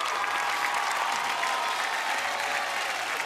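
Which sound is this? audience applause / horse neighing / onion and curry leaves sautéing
audience applause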